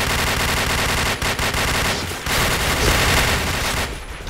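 Rapid bursts of automatic gunfire in a first-person shooter clan war on the Downtown map, loud, dense and continuous, with short gaps between volleys.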